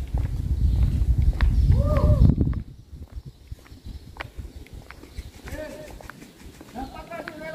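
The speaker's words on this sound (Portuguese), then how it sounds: "Cavalo." Horse hooves clip-clop at a recreation park in Caririaçu, Ceará, Brazil: a soft, uneven run of light knocks on the ground, heard under a low rumble and then under people chatting nearby.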